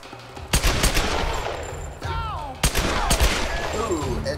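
Gunfire in Tomb Raider rings out as several sharp, loud shots in quick bursts, separated by short gaps with whooshing game effects between them.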